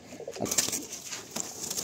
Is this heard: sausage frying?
no